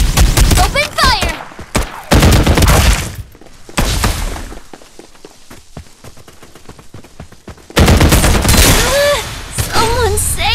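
Rapid video game gunfire crackles in loud bursts, with shattering and thuds, broken by quieter stretches and mixed with excited voices and game dialogue.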